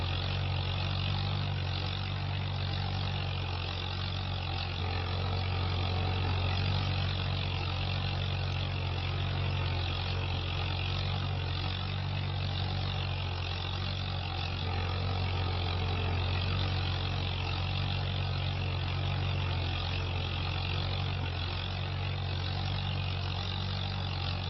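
Zielonka tractor engine running while drilling winter crops, a steady low throbbing drone that holds constant and loud throughout, no voices present.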